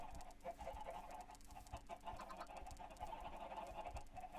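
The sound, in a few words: chickens clucking in Minecraft (video game)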